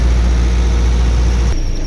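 A 50 kVA generator set engine runs at a steady, loud idle-like drone, then its low rumble drops abruptly near the end as it is shut down after a blown electronic voltage regulator.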